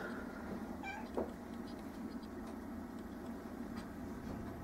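A cat in an animal shelter cage gives one short faint meow, followed by a brief clatter, under a steady hum of room noise.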